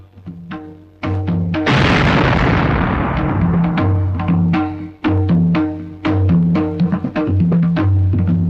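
A paper bomb hidden inside a hat goes off as a film sound effect: one loud, sudden blast with a long, crackling, rumbling decay, set among steady tonal music before and after.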